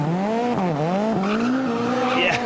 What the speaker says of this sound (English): Big squeal of the tyre.